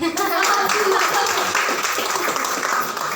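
Applause for a participant at a community celebration of International Mother Language Day and Chinese New Year, a steady wash of clapping from a gathered audience lasting a few seconds, with voices mixed in.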